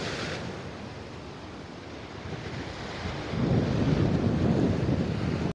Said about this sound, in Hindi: कितना जोर से लहर दे रहा है।